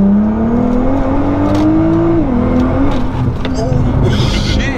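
A Nissan GTR accelerating hard from inside the cabin, engine drone climbing steadily in pitch, a brief dip at a gear change, then rising again, loud and continuous with voices talking over it.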